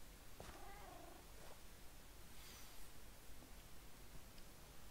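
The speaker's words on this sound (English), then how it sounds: "Finally we have a pet cat." A pet cat in Minecraft purrs with a soft, steady rumble under faint hiss, with a couple of brief higher meow-like calls and no talking.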